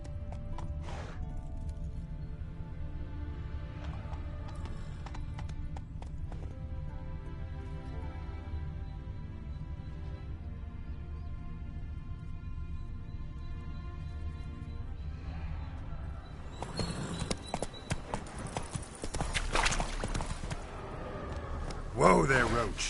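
Roach the horse in The Witcher 3 walking with steady clip-clopping hooves alongside in-game ambience and a neigh, with a voice speaking over it and louder, busier sounds near the end.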